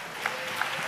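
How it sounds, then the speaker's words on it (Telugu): A church congregation claps loudly during praise in a steady burst of applause that fills the short moment, with a couple of sharper claps standing out and no talk over it. "గట్టిగా చప్పట్లు కొడుతూ స్తోత్రాలు చెప్దాం."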